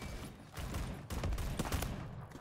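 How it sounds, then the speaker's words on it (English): A Saiga 12 semi-automatic shotgun fires in the shooter game Phantom Forces, several rapid, punchy blasts in an uneven burst, loud and close. "Saiga 12 going off."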